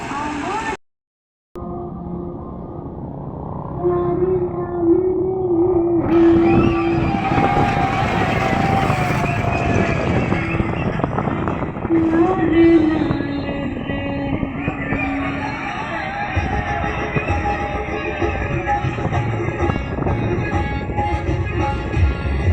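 Trawler boat engine on the Buriganga river, a steady, loud motor drone that starts after a brief silent gap and runs continuously, with wind noise and occasional people talking over it.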